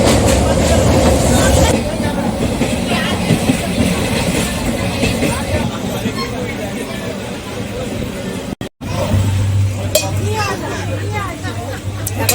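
Interior of a moving train near the Hooghly, travelling on a trip to Tarapith, with a steady rumbling rail drone throughout, chatter and clinks, and people talking over it; the rumble deepens near the end.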